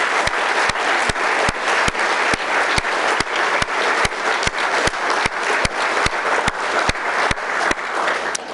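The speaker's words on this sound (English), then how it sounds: "Can we give Army Specialists another round of applause?" An audience at a city's State of the City address gives a sustained round of applause, a broad wash of clapping with sharp, regularly spaced clicks cutting through, and no voices over it.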